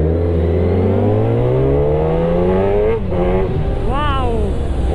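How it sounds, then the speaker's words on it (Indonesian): A Kawasaki ZX10R sport motorcycle engine revs loud and close, its pitch climbing steadily, dipping briefly, then surging again in sharp throttle blips. "udah kembali meraung si ZX10, guys"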